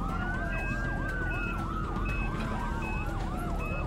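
An ambulance siren rushing a patient to hospital from a home in Christiansburg cycles through fast repeating whoops over a steady high tone, loud and continuous above low road rumble.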